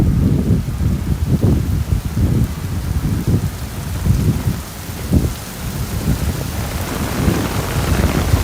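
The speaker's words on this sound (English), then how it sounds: "I wait all week to walk in a big downpour like that." Heavy rain pours steadily on a night street in Williamsburg, Brooklyn, with low rumbles of thunder rolling underneath, loud and continuous throughout.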